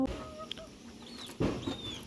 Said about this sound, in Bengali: দেখো ছোট ছোট বাচ্চা মুরগিগুলো কি সুন্দর খেলছে